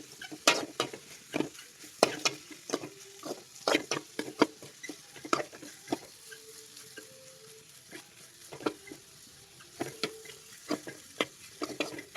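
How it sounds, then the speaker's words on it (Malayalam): Tomatoes stirred in a sizzling frying pan, with repeated sharp scraping and clacking strokes over a steady frying hiss, close and moderately loud, no talking. "നമുക്ക് ഇതിലേക്ക് തക്കാളി ഇട്ട് കൊടുക്കാം. നന്നായി ഇളക്കി കൊടുക്കണം."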